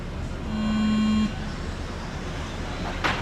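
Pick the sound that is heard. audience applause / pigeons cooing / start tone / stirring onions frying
start tone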